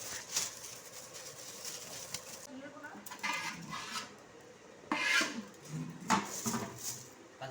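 A cooking pot is scraped and rubbed during beef cooking, with rasping metal scrapes and knocks in short bursts, fairly close, while people talk nearby.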